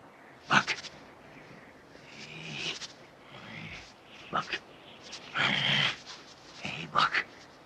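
A dog named Buck, a shaggy California dog in The Call of the Wild, pants in short, breathy bursts, loud and close. The bursts are spaced unevenly, and voices can be heard in places.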